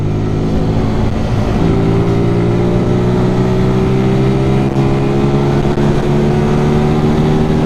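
A Zontes Roadster 125 motorcycle accelerating, its engine drone loud and close with a steady tone that rises slowly in pitch as it pulls, heard alone.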